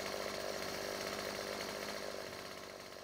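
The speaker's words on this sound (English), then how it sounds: "I'll go down with a chainsaw and break the spikes at the bottom." A chainsaw from the video game 7 Days To Die cuts continuously, a loud, rough, buzzing engine drone held steady for a few seconds without voices.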